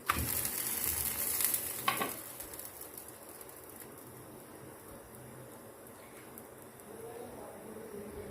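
Aloo paratha cooks on a tawa griddle with a soft, steady sizzle, preceded by a few brief clatters and handling sounds near the start, then a quiet continuous frying hiss.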